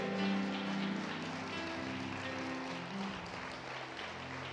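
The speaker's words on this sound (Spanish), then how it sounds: "Dale un aplauso a mi Jesús, por favor" Steady applause from a church congregation, a dense wash of clapping that holds throughout, with sustained musical tones underneath.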